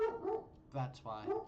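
A pet dog named Butters lets out a few sharp barks and yips at close range, interleaved with a man's speech in a quiet indoor room.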